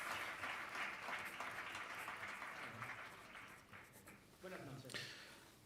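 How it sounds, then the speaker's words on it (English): Audience applause at a tech summit welcoming a speaker to the stage, moderate clapping from a seated crowd that wavers in intensity with voices murmuring underneath. "Let's have your round of applause."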